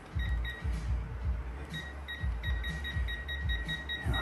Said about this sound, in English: Set it to beep whenever you get to 3.